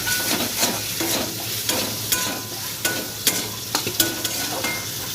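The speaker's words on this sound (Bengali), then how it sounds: "আর দেবো কাঁচা লঙ্কা মতো লবণ হলুদ গুঁড়ো নাড়াচাড়া করে নেব" Green chili, salt and turmeric frying in a pan, a constant close sizzle broken by regular spoon scrapes and clinks as they are stirred.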